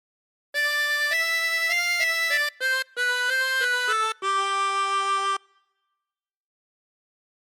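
A reedy chromatic harmonica plays a short, slow phrase of 'God Defend New Zealand' in sustained notes with brief breaths between phrases, ending in a long held tone, then silence.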